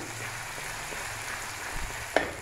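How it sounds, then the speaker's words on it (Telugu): Onions fry in a pan with a steady, even sizzling hiss at moderate loudness, broken by one brief clink near the end. No one talks. "ఉల్లిపాయ, ఉల్లిపాయ బాగా ఫ్రై చేసుకోవాలి"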